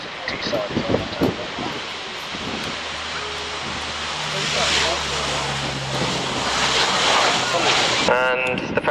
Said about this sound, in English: even for a 70-ton aeroplane it can still be thrown around the sky if it's in the right hands